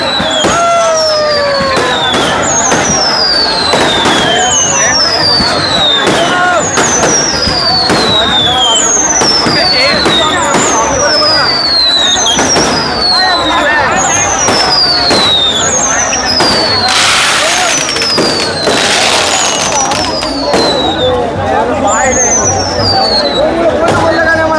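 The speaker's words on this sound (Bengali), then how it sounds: "এখন আতশবাজি থামলো না" Dense fireworks display during a Kartik Puja immersion at a busy crossroads in Sonamukhi, with repeated whistling rockets and crackling bursts booming loud and continuous over a murmuring crowd.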